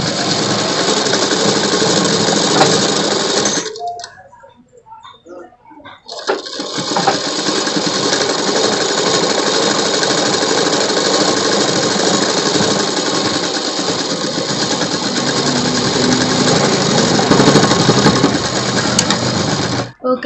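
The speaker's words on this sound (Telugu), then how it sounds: "వేరొక వైపు కూడా ఇలాగే మడిచి కుట్టు వేసుకోవాలి." A sewing machine stitches folded fabric for a girl's collared night suit, running loud and steady in a continuous whirring hum with a short pause partway through, then resuming for a long unbroken run.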